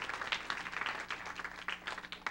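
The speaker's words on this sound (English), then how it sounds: "Give them a hand clap of praise for God's servants." Church congregation applauding at a children's church service, a dense spread of hand claps at moderate volume, steady for a couple of seconds without a clear break.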